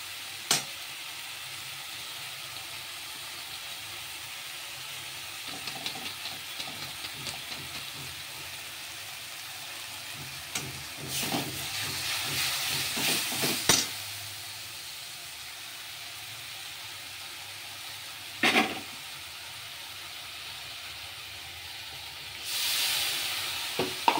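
Ground spices for aloo dum masala frying in a pan, a soft steady sizzle with several louder bursts of hissing and stirring, close with no talk.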